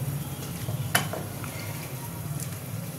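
Mutton and potatoes cook in a pot for a Bengali chui jhal mutton kosha, giving a low, steady sizzle and bubbling with a single light utensil clink near the start.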